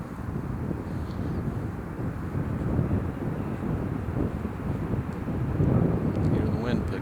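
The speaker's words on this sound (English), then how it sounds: "Hear the wind picking up." Wind blows steadily across an outdoor disc golf course in a park, a broad low rumble of gusts against the microphone that swells near the end, with no talk over it.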